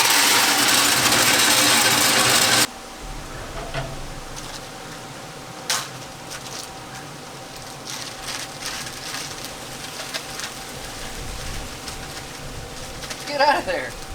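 A pellet grill's auger and igniter run steadily under a loud broadband rush at the start, then settle into a low continuous mechanical hum with a faint steady tone and occasional clicks and knocks.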